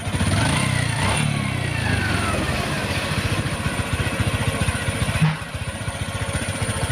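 A Honda XRM 125 Fi motorcycle engine with a knock caused by neglected oil runs close by, idling with a rapid, even mechanical pulse and a brief dip in level partway through.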